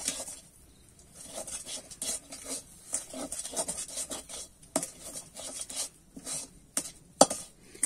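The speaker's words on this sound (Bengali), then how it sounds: "এইভাবে নেড়ে চেড়ে কিন্তু আমি পুরটা তৈরি করে নেব" Green pea kachori filling being stirred in a pan, with soft repeated scraping and clinking of a spatula against the metal in an uneven rhythm, close and fairly quiet, no talking.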